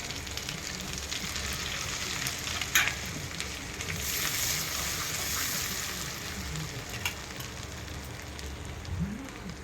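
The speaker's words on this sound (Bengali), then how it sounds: "মশলাটা ভালো করে ভেজে নেব।" Ground coriander, cumin, chilli and turmeric fry in oil with ginger paste in a pan, producing a soft, steady hiss with a few brief louder bursts.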